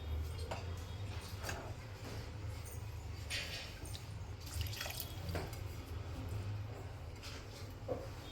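Tap water runs steadily into a kitchen sink while pulao is being cooked, a continuous close wash with faint drips and small clatters over it and no voices.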